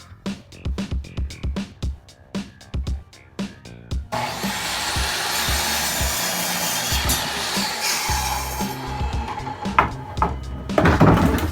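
Wooden backing pieces fitted between wall studs are cut with a saw: a run of rhythmic hand-saw strokes gives way to a long, loud, steady power-saw cut, close by and with no talk.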